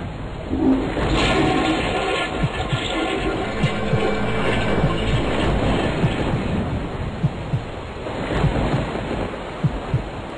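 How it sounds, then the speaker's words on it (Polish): A toilet flush in the horror video game The House, a loud continuous rushing and gurgling of water that carries on for several seconds with small knocks and bursts within it. "A może byśmy e, spuścili spłuczkę?"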